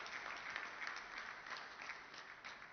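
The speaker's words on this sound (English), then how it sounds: "A round of applause for her." Audience applause at an award ceremony, a steady wash of clapping from a crowd heard faintly and at a distance, without voices over it.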